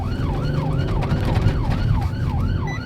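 A loud, close ambulance siren wails in a fast repeating rise and fall over heavy engine and road rumble.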